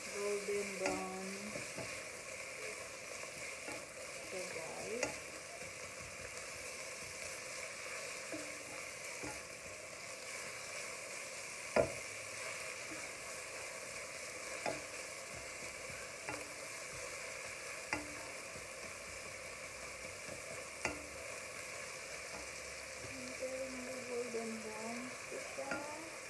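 Picadillo fries steadily in hot oil until golden brown, a continuous close sizzle with occasional scrapes and taps of a spoon stirring through the pan, and no talking.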